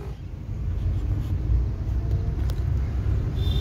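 A Hyundai i20 pulls away in first gear, a steady low engine rumble rising slightly as it accelerates, heard from inside the car with no talk over it.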